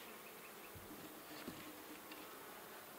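Bees at an open beehive give off a faint, steady buzzing hum, with the odd individual bee passing closer. No one speaks.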